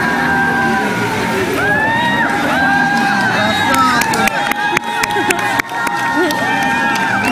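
Outdoor crowd at a lakeshore cheering, whooping and shouting as a foreign car is hauled out of the water by another vehicle; loud, continuous excited voices with scattered sharp yells, close by.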